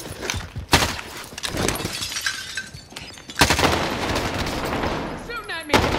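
Gunfire in Call of Duty on Rebirth Island: sharp, loud bursts of shots crack out at the start and again midway, then run on in a sustained volley, with players talking over the action.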